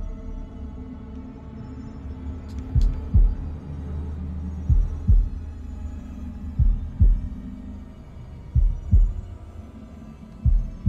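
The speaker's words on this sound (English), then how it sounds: "Are we gonna do a heartbeat mechanic?" A heartbeat mechanic in House of Ashes, a Dark Pictures Anthology game, gives slow, heavy double thumps that repeat evenly and loudly over a low droning hum, with no talking.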